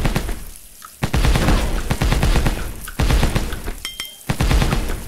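Gunfire in the zombie video game Dead Rain: New Zombie Virus, bursts of rapid shots and heavy booms arriving in several volleys with brief gaps between them, loud and close.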